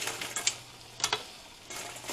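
Frozen onion frying in a pan while cooking jjamppong: a low, steady sizzle with a few sharp clicks and stirring scrapes, close by and fairly quiet, with no talking.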